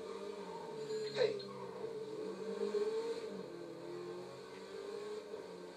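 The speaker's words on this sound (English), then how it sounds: "Just look at that engine purr." A car engine in GTA Online revs and drones steadily with a rising pitch, a brief sharper burst early on, and speech-like voice energy mixed in.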